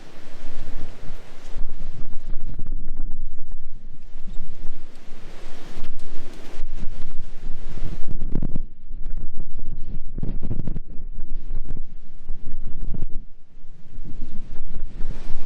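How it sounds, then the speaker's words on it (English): Strong wind on the Cornish coast buffets the microphone in loud, gusty bursts of low rumbling roar, rising and dropping in waves with no one talking. "So a little bit out of the wind, so hopefully you can hear what I'm saying."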